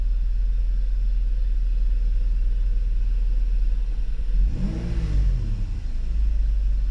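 A steady background hum, then a Mercedes V12 engine turns over and fires up with a brief rising growl before settling into a low, even run.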